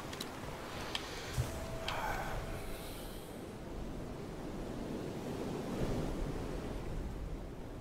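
Wind and ocean waves while sailing a boat in the video game FAR: Changing Tides, a steady broadband rush of surf and wind noise, with a couple of brief clicks near the start and no talk.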